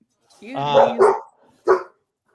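Dogs bark in short loud bursts, a couple of quick yaps followed by a single sharp bark, close by with a voice nearby.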